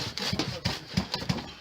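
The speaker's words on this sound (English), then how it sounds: "Got to cut another block to length there." A light earth building block is sawn to length during a retrofit of a tin shed, making rapid, rhythmic rasping strokes at close range, fairly quiet and unbroken by talk.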